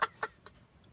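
Outdoor chickens let out two sharp clucks in quick succession, then a softer third, each short and fairly close, with quiet background between.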